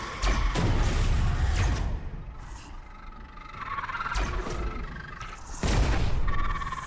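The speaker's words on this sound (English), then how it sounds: "There's definitely an explosion thing going on." Plasma weapons fire and explode in the video game Space Hulk: Deathwing, dense loud booming blasts and crackling bursts in heavy waves with sharp hits throughout, no talking.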